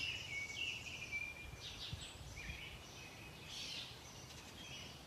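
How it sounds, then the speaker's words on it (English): Faint birds chirp intermittently in the distance over a quiet outdoor background, with scattered short calls. "The sounds of the birds in the background,"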